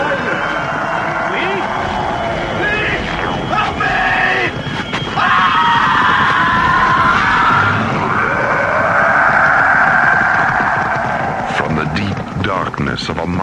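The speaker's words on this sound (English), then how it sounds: "a scream of terror and silence of death" A scream of terror in an old alien worlds radio drama set in a mining camp, a long, wavering high shriek rising and falling under eerie tones and other voices.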